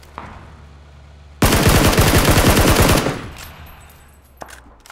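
Rapid automatic gunfire from the battle royale game PUBG, a loud close burst of about a second and a half of fast repeated shots, followed by a fading tail and a single faint later shot.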